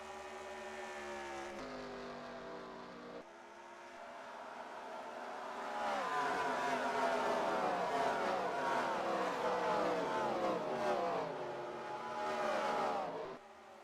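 Stock cars racing at Darlington, South Carolina, in a cup-series racing video game, engines droning steadily and growing louder and busier partway through as several cars roar by close together.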